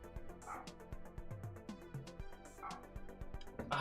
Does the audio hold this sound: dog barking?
yes